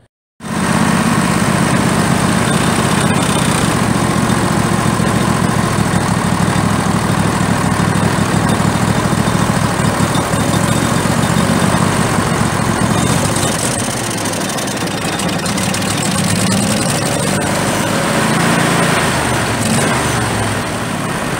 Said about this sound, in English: running a bit better, but still surging a little wee bit on high idle, quite a bit on low idle.